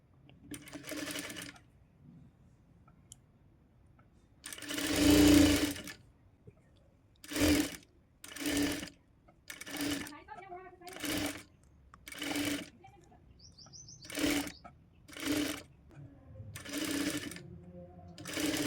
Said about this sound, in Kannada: ಇಲ್ಲಿ ನಾವು ರೌಂಡ್ ಶೇಪಿಗೆ ಈ ರೀತಿ ಅಟ್ಯಾಚ್ ಮಾಡಿಕೊಂಡು ಸ್ಟಿಚ್ ಮಾಡ್ಕೋಬೇಕು